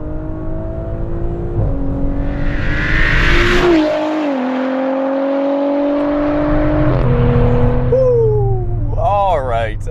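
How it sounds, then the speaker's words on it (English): A modified Audi S4 B8 street car launches hard with wheel spin, its engine roaring loud and rising through gears with a whining pitch sweep, followed by a shift and a voice near the end. "Huge amount of spin and torque steer off the line there"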